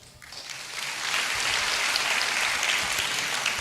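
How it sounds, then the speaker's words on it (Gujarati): Audience applause swelling up from quiet into a dense, steady clapping at a lecture on prenatal care, moderately loud and sustained to the end. "ઠોકો તાળી"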